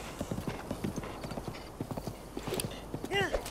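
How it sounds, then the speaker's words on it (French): A horse in Zelda: Breath of the Wild moves at speed, its hooves beating a quick, steady clip-clop rhythm up close, with a short whinny near the end while a person talks over it. "le cheval va là où ton regard te porte"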